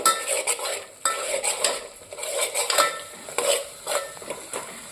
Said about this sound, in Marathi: आणि मग हा मसाला एक 5 मिनटं चांगला भाजून घ्यायचा अशा पद्धतीनं.